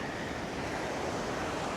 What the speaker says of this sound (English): it is a bit windy here